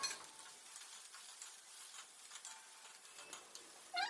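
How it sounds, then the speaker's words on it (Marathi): A large finely chopped onion frying in a pan for Kolhapuri misal, a soft steady sizzle with faint scraping stirs, quiet and close with no voices. "त्यात एक मोठा कांदा घेतला आहे बारीक कापलेला तो घालणार आणि तो सुद्धा आपण आता खमंग असा परतून घेऊया"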